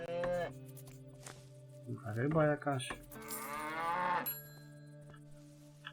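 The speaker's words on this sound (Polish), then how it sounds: "O, tutaj są krowy, zobaczymy." Cattle in the video game Above Snake moo in a few drawn-out, nearby calls in the middle of the clip, with a person talking over and around them.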